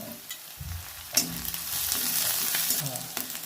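Green chillies sizzle and crackle steadily in oil, with a sudden pop as they hit the pan; the frying for a tilapia mash continues as a close, steady hiss with occasional clinks.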